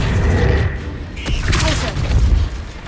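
Spell-casting combat effects in Hogwarts Legacy, with a fire spell and a summoning spell, come as dense booms and crackling magical bursts, loud and continuous, with a voice speaking over them.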